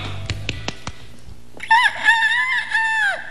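A person imitates a rooster's crow. A few sharp taps come first, then one long, loud, wavering cock-a-doodle-doo call.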